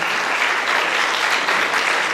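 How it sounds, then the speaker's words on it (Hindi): Audience applause at a Jain philosophy lecture session held in Dubai, a dense, continuous patter of many hands clapping, loud and steady, with no talk over it. "एक बार तालियों के माध्यम से हमें बताएं"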